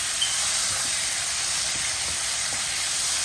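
Tomatoes going into a hot pan for a tomato curry give off a steady, close hiss of sizzling that holds evenly throughout, with no talking.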